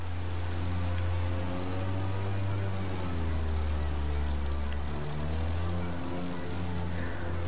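A steady, loud propeller-engine drone from an aerobatic airplane in the racing video game The Crew 2, with its pitch slowly rising and dipping as the plane maneuvers, continuous throughout with no talking.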